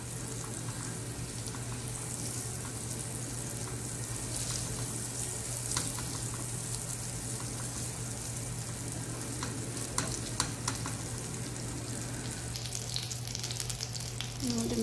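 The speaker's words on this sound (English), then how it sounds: "So now it's time to melt the butter in the pan." Butter melting in a pancake pan gives a steady, soft sizzle with faint scraping as it is brushed around, continuous throughout under a low background hum.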